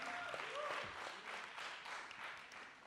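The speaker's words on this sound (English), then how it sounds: "A big round of applause for all of them." Panel discussion audience at a youth conclave in Mumbai clapping, a faint, distant patter of applause that holds steady for a few seconds.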